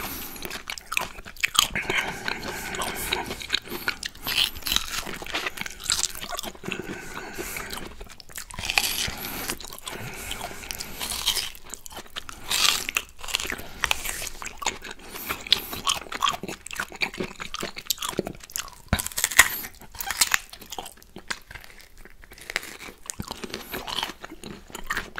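Sweet, juicy orange slices and mango are bitten and chewed right at the mic, with wet crunching and smacking that carries on steadily for the whole stretch, without talk.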